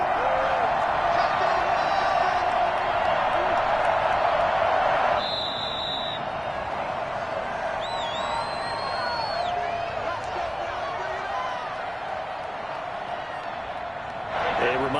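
Stadium crowd in a Madden 21 American football game, a loud steady roar of cheering and whoops that eases after a few seconds into a lower continuous crowd murmur, with whistles and brief tones on top.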